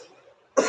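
A single sharp cough bursts out after a stretch of quiet, low background murmur, close and loud, from someone who is ill and coughing.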